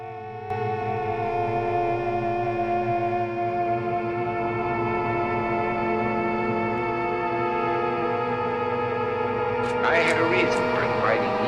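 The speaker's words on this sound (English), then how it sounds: "Let's put some reverb on this" A DJ loop playing in an iPad looper app with reverb applied, sustained tonal layers washing steadily at even loudness, with a brief brighter burst near the end.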